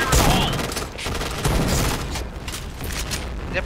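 Dense bursts of rapid gunfire crackle and boom in the shooter game Point Blank, loud and close, with shots piling up into a continuous fusillade.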